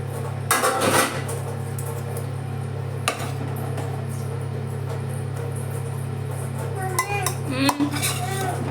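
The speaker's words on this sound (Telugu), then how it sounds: "ఇప్పుడైతే లంచ్ బాక్స్ ప్యాక్ చేస్తున్నా" Steel dishes, containers and cutlery clink and clatter in short, scattered bursts while a lunch box is packed in a home kitchen, over a constant low electrical hum.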